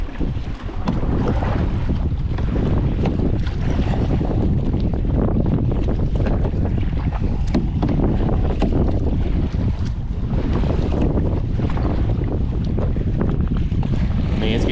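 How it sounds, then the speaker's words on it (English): Strong wind buffets a small kayak on open, whitecapping water, a loud continuous roar of gusts and microphone wind noise mixed with lapping waves, with no voices. "So I'm trying to find a place to get out of this wind."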